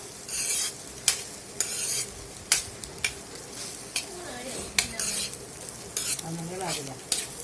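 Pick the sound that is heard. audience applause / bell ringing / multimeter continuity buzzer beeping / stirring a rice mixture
stirring a rice mixture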